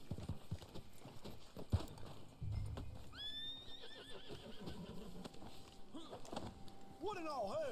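A horse in the Red Dead Online video game whinnies with a high, wavering neigh at about three seconds and again near the end, over hoofbeats, with a person talking in between.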